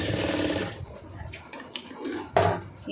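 Sewing machine stitching a round neckline, a short burst of rapid mechanical whirring at the start, then quieter handling clicks and a brief louder clatter near the end.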